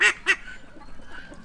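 Two loud, close quacks come in quick succession from ducks in a muddy pen beside a chicken coop, followed by faint softer calls.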